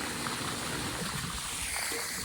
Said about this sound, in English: So I turn this on, and it will immediately throw the water out into the back.